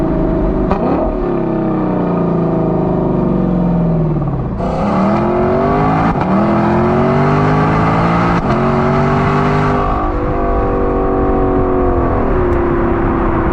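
A Lexus LC500 with a naturally aspirated 5-liter V8 revving loudly as it accelerates, pitch climbing and dropping through several gear changes, the engine roaring close and continuous throughout.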